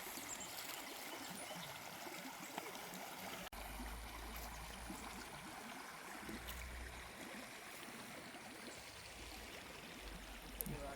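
Guadalupe River flowing past a ranch, a steady soft rush and trickle of water, faint and continuous with occasional low bumps and splashes close by, no voices.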